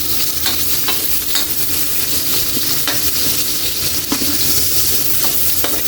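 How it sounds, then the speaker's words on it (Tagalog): Garlic, ginger and onion sauté in a hot pan with a loud, steady sizzle close by. A spatula stirs and scrapes now and then, and no one speaks. "Ilagay na natin Kayli ng ating bawang. Sama na rin natin sibuyas."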